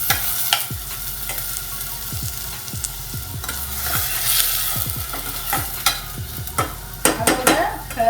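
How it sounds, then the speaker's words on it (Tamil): Oil sizzles steadily in a pan as it heats for tempering a vegetable curry, with a spoon stirring and scraping in repeated strokes close by, no talking. "இதில் நான் ஆயிலை தாளிக்கு தேவையான ஆயில் ஆட் பண்ணுறேன்."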